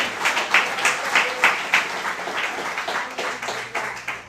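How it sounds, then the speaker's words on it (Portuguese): A church congregation at Igreja de Nova Vida do Catete claps for the Lord: a short round of fairly loud, pulsing applause in uneven bursts, with a faint voice underneath. "Dê uma salva de palmas ao Senhor"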